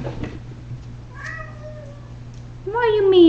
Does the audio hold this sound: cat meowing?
yes